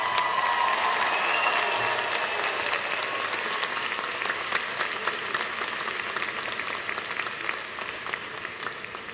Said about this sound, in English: how about one round of applause for all of our graduates?